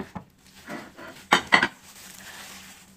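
Cut fruit pieces clatter into a bowl for a fruit salad, a few soft knocks followed by two sharper clinks of utensil against the dish, close and brief, with quiet room noise between and no talking.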